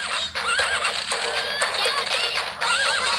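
A horse neighs repeatedly in the rhythm video game Patapon, linked to the horse-riding Kibapon unit. The whinnies are loud with warbling rises and falls over constant game sound, and a voice may faintly overlap.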